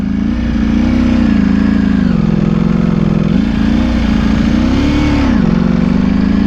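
A Ducati Panigale V4R sport motorcycle engine screams at high revs, holding a loud, strained howl that dips and surges a few times.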